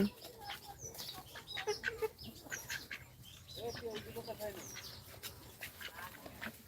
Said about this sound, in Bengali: আরো কত সুন্দর মুরগি